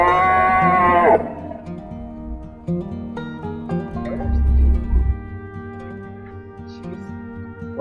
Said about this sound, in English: We got cows on the road up here.